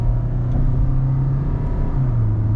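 A Kia Syros 1.5 diesel automatic pulling away in first gear: a steady, loud low engine drone with a faint rising tone, heard from inside the car with no talking.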